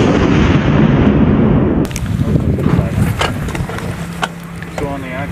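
A Carl-Gustaf M4 recoilless weapon fires on a range with a heavy, loud blast that rolls into a long rumbling decay, followed by scattered sharp noises and voices.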